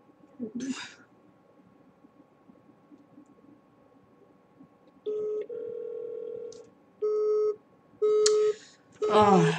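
A telephone keypad beeps through a short run of dialing tones, then a busy signal answers with repeated evenly spaced tone bursts, clear and close, after a brief muffled noise at the start.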